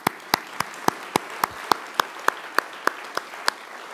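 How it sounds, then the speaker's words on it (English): Slow, regular claps, about fourteen distinct hits at a steady pace, from an audience at an alumni achievement award ceremony; nobody speaks. "Give her a round of applause for unconditional love."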